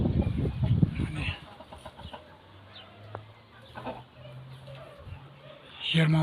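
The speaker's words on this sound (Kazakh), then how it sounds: "20-30 тауық бар осы жерде." A flock of twenty to thirty chickens scratching and digging in a vegetable garden, soft scattered clucks nearby under a voice, with louder talk at the start and end.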